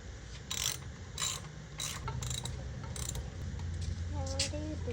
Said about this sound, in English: We're tightening these bolts underneath here.